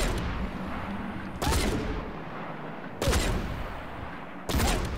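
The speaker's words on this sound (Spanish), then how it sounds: "como se oyen los disparos, es una pasada" Three loud, booming gunshot blasts from StarCraft II ring out about every second and a half, each trailing off into a rumbling echo.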